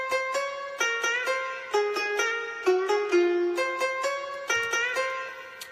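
Sampled Chinese plucked instrument from Logic's ESX24 sampler plays a short melodic phrase of bright, decaying plucked notes with pitch bends, clear and close with no voices.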